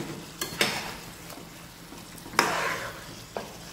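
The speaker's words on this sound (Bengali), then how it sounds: "এইভাবে এগেন ভালো করে মিক্স করে নিয়ে লিড লাগিয়ে দেবো আমি।" Mutton curry stirred in a pan, with a few distinct scraping strokes over a low, steady sizzle.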